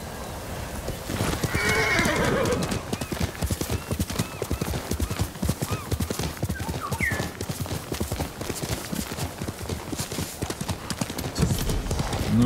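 A horse in the samurai game Ghost of Tsushima gallops with steady, rapid hoofbeats across the whole stretch, with a loud whinny near the start and another brief neigh midway, close and prominent.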